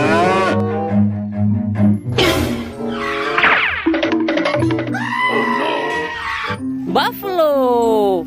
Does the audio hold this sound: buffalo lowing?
yes